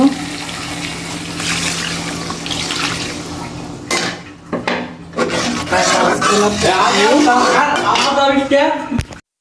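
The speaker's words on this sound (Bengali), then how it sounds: "তো এখন আমি ঝোলের পানি দিয়ে দিব।" Water is poured into a curry of broken-up potatoes to make the gravy, a steady rushing pour that starts and stops in a few bursts at close range over kitchen background noise.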